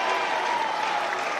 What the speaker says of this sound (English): It's got a big cheer, hasn't it?